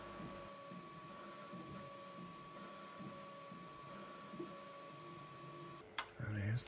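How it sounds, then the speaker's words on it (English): A 3D printer prints a plastic connector body, its motors humming and whirring steadily at low volume with faint rhythmic movement, ending in a brief louder clatter. "3D printing to the rescue."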